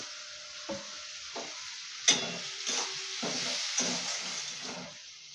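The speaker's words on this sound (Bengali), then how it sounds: "পেঁয়াজটা আমি একটু বাদামি বাদামি করে ভেজে নেব" Onions frying with salt in a pan, a soft continuous sizzle broken by several distinct stirring scrapes and clatters at irregular intervals, close and fairly quiet with no talk.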